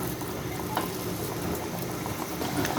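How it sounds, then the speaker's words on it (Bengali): Pakoras frying in hot oil over a medium-low flame, a steady close bubbling sizzle that holds evenly throughout with no talking. "মিডিয়াম টু লোয়ের মাঝামাঝি রেখে এই পাকোড়াগুলো ভাজবো"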